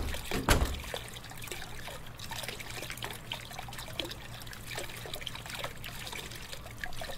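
Water trickling and dribbling in The Crooked Man horror game, a steady close liquid flow under a low hum, with one louder splash near the start.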